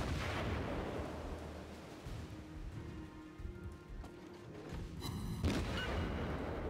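Naval artillery fire in the World of Warships game, a deep booming roar against a rumbling, rain-like background hiss, ending in a sharp loud blast near the end, with no voices.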